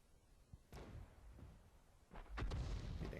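Tank cannon shot in World of Tanks: a faint boom followed by a louder, heavier blast with a rumbling tail, distant-sounding and low in level.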